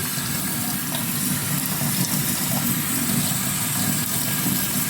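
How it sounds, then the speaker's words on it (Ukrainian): Elderflowers rinsed in a colander under a running kitchen tap, a steady, close hiss of flowing water with splashing into a sink, continuous and fairly loud throughout with no talking. "сипаємо сюди і під проточною водичкою і змиваємо природний тир, який там понападав на нього в лісі"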